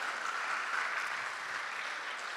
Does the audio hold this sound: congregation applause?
yes